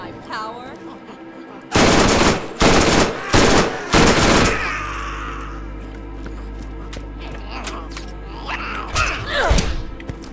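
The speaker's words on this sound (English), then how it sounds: "Of course, Malawan doesn't make plain old exploding launchers." Rapid burst of explosive launcher shots from a Maliwan weapon in Borderlands, four or five loud thumping blasts in quick succession, followed by a low rumbling tail and quieter game effects.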